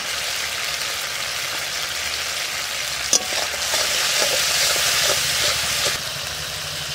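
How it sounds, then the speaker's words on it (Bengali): Spice paste with a little water sautés in a pan with a steady, fairly loud crackling sizzle that rises midway, marked by one sharp utensil clink, with no talking. "সামান্য একটু জল দিয়ে কষাই নেবো মশলাটা।"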